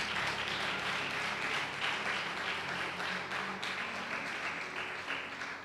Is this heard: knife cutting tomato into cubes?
no